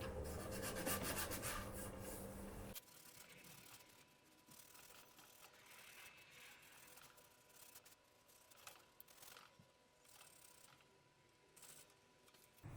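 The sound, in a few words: sanding scratches on a carbon paramotor frame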